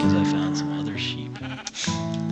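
Minecraft sheep bleating in a game world, a couple of wavering calls heard over an active voice talking throughout, with game music or tones underneath.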